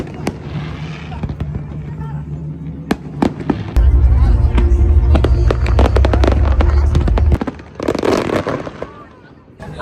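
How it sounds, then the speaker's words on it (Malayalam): Fireworks go off during Eid celebrations in Qatar: a run of sharp, loud bangs and crackles, then a heavy rumbling barrage in the middle that fades into scattered pops, with voices around them. "ഫയർ വർക്ക്സ് ആണോ?"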